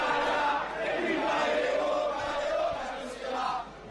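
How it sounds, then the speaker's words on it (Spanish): A football stadium crowd roars and chants in support of Boca Juniors, a dense, surging wash of voices that swells and dips over a few seconds. "Explosión de la gente y una nueva ovación para el 9 de"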